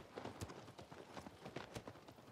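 Horse hooves clip-clopping in the video game Shadow of the Colossus, a quick, steady rhythm of quiet hoofbeats heard alone at low level.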